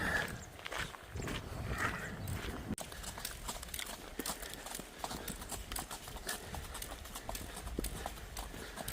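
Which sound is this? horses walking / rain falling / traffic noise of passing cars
horses walking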